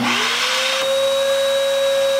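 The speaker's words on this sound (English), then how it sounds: "when you're cleaning the Okki Nokki with the Okki Nokki and you want to vacuum your record" Okki Nokki record cleaning machine vacuuming a vinyl record, a steady loud motor whine with a high pitched tone that settles after a brief shift, continuous and without talk.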